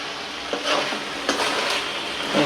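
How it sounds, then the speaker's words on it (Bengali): Bottle gourd greens from Barishal being sautéed in a pan with snakehead and taki fish for a curry. The pan gives a steady oily sizzle, and a spatula stirs and scrapes it with soft rhythmic swishes. "শাকটা সব দিয়ে কষাকষি করে লই"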